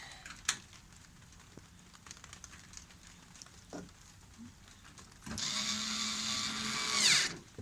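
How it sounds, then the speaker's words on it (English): Screws being driven back into a 2005 Dodge Dakota tail light: a few faint clicks and taps, then a louder close whirring burst of roughly two seconds near the end. "Now I just gotta get those screws back on."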